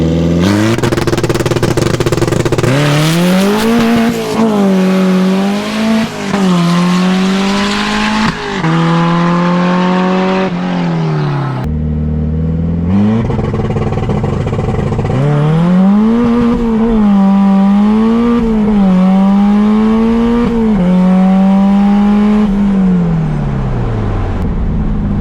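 A turbocharged K-swapped MR-2 Spyder pulls hard through the gears on a timed acceleration run, its engine note climbing steeply with each gear, a brief shift break, then rising again, loud and close throughout.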